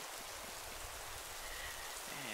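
Rain falling in Minecraft, a soft, steady hiss of drops pattering on surfaces, faint and continuous throughout, with no speech over it.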